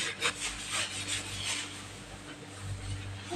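Something is scrubbed to get dirt off garden borders: a close, faint, rhythmic rubbing and scraping in short repeated strokes, with no voices.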